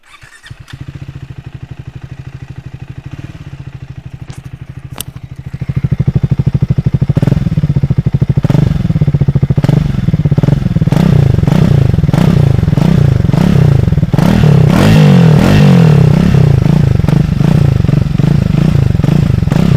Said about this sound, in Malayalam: നമുക്കിതിൻ്റെ എക്സോസ്റ്റ് നോട്ട് കാര്യങ്ങളൊക്കെ നോക്കാം.